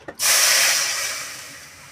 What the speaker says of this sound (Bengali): কড়াইয়ে আমি পরিমাণ মতো 1 বাটি জল দেব।